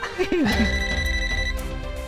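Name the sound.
mobile phone ringing with incoming call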